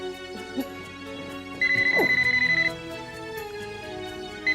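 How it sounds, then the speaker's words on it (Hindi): A phone rings with a steady, rapidly pulsing electronic tone for about a second, over a quiet background with a brief rising whistle-like sound just before. "किसका फोन होगा ये?"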